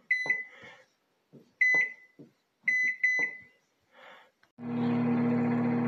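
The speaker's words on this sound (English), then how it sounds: "I don't know why I set the microwave up to a minute" A microwave oven chirps several short electronic beeps, some in quick pairs, then starts up with a steady low hum as it runs.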